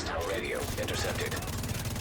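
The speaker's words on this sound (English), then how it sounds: "I hear gunfire." Gunfire from The Division video game, dense overlapping shots crackling continuously and loudly under a mix of game voices and radio chatter.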